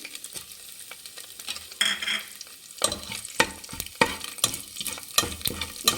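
Garam masala fried in oil for egg biryani, a quiet sizzle at first, then a run of rhythmic spoon scrapes and knocks against the pan over the crackle of hot oil.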